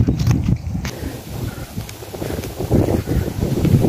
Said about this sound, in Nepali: यो चाहिँ डाँडामा पर्छ नि त, त्यही भएर हावा चलिरहेको छ यहाँनिर।